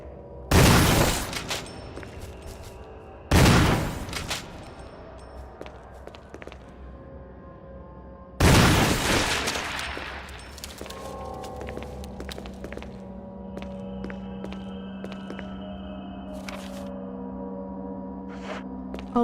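Three heavy shotgun blasts in Resident Evil 1, each a loud, sharp boom with a short rumbling tail, spaced a few seconds apart. Between the shots there is quiet ambient hum and small scattered noises.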